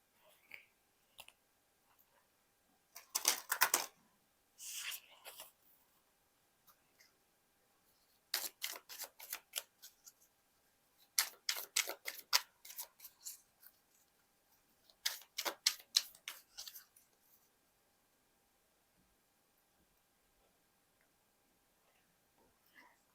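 Tarot cards drawn and handled from a deck, heard as clusters of crisp, close papery flicks and snaps in several short bursts separated by quiet pauses, with no talking.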